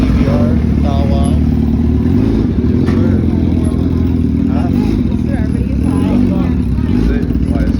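Motorcycles at an outdoor bike night, a loud continuous low engine rumble with occasional revs and clatter, heavy under constant nearby talk.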